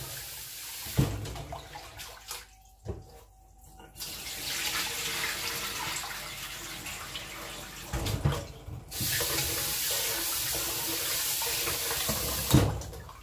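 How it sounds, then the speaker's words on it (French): Rice being washed by hand in water until it runs clear, with running water and splashing in bursts separated by brief quiet gaps, fairly close and soft. "Vous lavez jusqu'à ce que l'eau soit claire."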